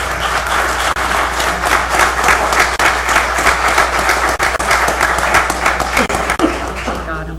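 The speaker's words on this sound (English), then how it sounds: "just give them a round of applause" Audience at a township committee meeting applauds in a steady, dense round of clapping that holds for several seconds at close range, with a low hum underneath and scattered voices and a few chuckles mixed in.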